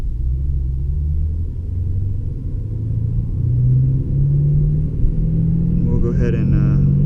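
A Lexus RC F engine drones as a low, steady rumble from inside the cabin while the car moves in first gear. The tone rises slightly toward the end and stays fairly loud throughout.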